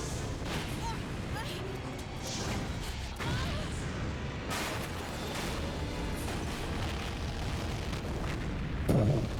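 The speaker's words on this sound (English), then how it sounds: "We are running away from an explosion." A dense, continuous roar of explosions from the Resident Evil 3 video game runs loud and steady throughout, with rumbling blasts and a sharper boom near the end.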